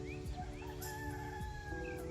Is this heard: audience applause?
no